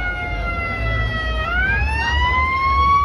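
A fire engine siren wails on Ocean Drive in Miami's South Beach, its rising and falling tone sweeping upward as the truck approaches, loud and close over street traffic rumble.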